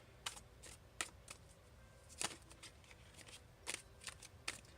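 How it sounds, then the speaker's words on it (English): A deck of tarot cards is shuffled by hand in quiet, soft crisp riffles and taps in short irregular bursts, close and faint with no talking. "I hope you guys can see me shuffling."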